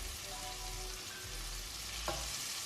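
Butter melting and sizzling in a pan on medium heat, a soft steady crackle with a faint low hum underneath and one brief clink near the end.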